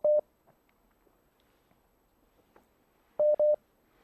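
Telephone keypad tones for a caller phoning into an Arabic radio quiz show: one short tone, then a quiet gap, then two more tones in quick succession, clear and alone.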